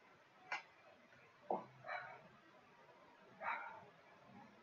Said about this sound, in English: So who has a dog that's barking?